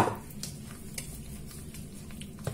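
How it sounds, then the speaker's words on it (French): A spoon stirring thick gluten-free oat bread dough in a bowl, a soft continuous squishing with faint scraping taps, close and alone. "Et on pétrit juste comme ça à la cuillère."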